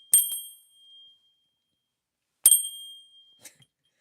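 A small hand bell is struck twice, each bright ring decaying over about a second, followed by a faint tap.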